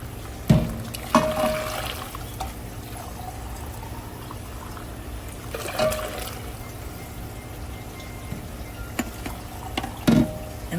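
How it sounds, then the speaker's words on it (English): Water is poured into a cooking pot of one-pot hamburger macaroni in a home kitchen, with short splashy bursts, quiet pauses in between and light clinks of the pot. "So now we're going to just keep adding the water."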